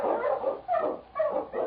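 A husky sled dog, an Eskimo lead dog in an old radio drama, barks and yelps in a few quick bursts, close and lo-fi with a narrow, broadcast-like tone.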